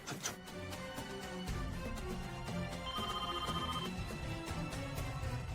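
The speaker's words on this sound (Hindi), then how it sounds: "रचना जरा देखो तो किसका फोन है।" A phone ringtone plays a steady, bright electronic melody that repeats for several seconds with no talking.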